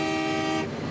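A single loud, sustained car horn blast sounds close by, holding steady for most of a second before cutting off.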